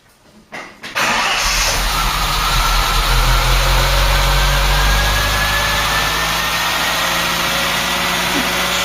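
A Ford Cortina Mk3 with the auto choke on cranks briefly and catches within a second, then settles into a loud, steady high-revving idle that holds close by with no voices.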